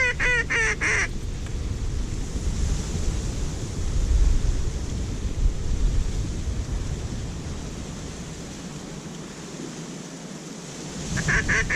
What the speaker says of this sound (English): I hear geese.